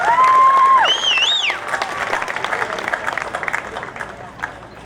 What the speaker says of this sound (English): So one more round of applause for Mr.